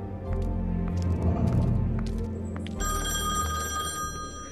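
A bright electronic telephone ring trills in from a scene in The Wolf Among Us, entering partway through over a busy low rumble of game sound and brief noises.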